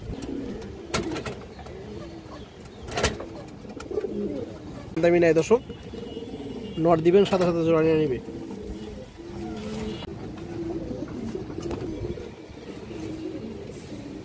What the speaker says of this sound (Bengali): লালচুরি মাদিরা দেখেন মাশাআল্লাহ খুব সুন্দর একটা কবুতর।